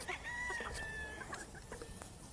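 Chickens cluck and a rooster crows at a gamefowl farm with proven hens, a faint, somewhat distant mix of overlapping clucks and a drawn-out crow.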